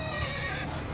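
A horse neighs in the Mount & Blade 2 Bannerlord video game, one brief, loud, close whinny with a wavering high pitch.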